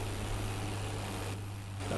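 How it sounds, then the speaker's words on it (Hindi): A tractor engine hums at a steady idle-like drone with a low constant tone after starting in Farming Simulator 22, running alone on a muddy field. "ट्रैक्टर हो गया स्टार्ट अपना"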